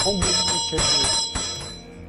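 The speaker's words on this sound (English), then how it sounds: "They communicate with the spirits and deities through a chanting and constant ringing of a bell." A shaman's bell rings repeatedly with bright, sustained metallic tones, layered over chanting voices and a dense ritual soundscape, at a tribal ritual in West Kameng, Arunachal Pradesh.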